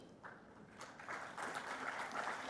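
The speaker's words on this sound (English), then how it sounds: "A clap for them." Audience applause at a World Environment Day celebration, faint and distant, starting thin and swelling into a steady wash of many hands clapping.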